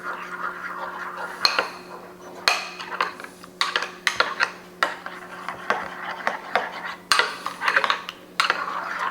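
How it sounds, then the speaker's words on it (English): A utensil stirs horseradish white sauce in a bowl, giving repeated close clinks and scrapes against the sides in an uneven rhythm, with no talk. "we're going to give it a quick stir"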